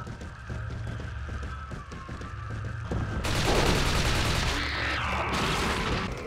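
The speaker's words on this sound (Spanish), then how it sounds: "podrán dispararle desde esta misma abertura" Gunfire in the Resident Evil 4 video game, aimed at an enemy stuck in place through a small opening, sounds as a dense, loud burst of shots that swells midway and keeps going over game sounds.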